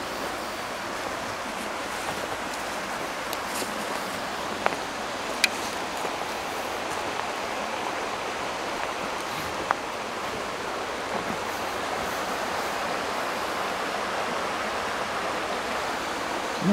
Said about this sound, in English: This is Owen's Creek